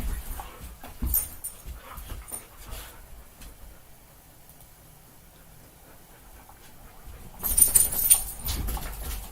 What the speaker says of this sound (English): We can sure hear my dogs.